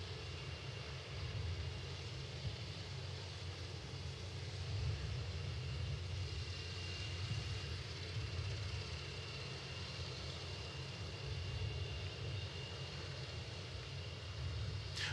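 The Boom XB-1 supersonic test aircraft flies over the Mojave, California test range, heard as a faint, distant, steady engine rumble and broadband roar that carries on evenly with no talk over it.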